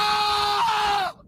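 A man lets out one drawn-out, high scream at a football Media Day. It is loud and strained, lasts just over a second and cuts off sharply.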